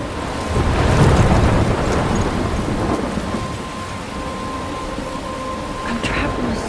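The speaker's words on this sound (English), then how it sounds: "I'm trapped in a storm?" Thunderstorm in the video game Life is Strange: steady heavy rain hissing throughout with low rolling thunder swelling early on, the downpour continuing alone at a constant level.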